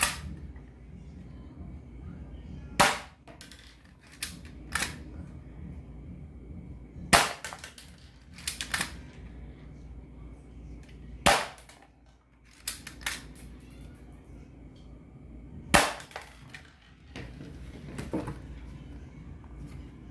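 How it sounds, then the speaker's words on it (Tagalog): A spring-type airsoft Glock 17 pistol with a metal frame fires sharp, snappy shots at a Lazada cardboard box, about six or seven spaced cracks over a low background hum. "pagkalipas ng maraming putok, mabutas na natin tong box na Lazada"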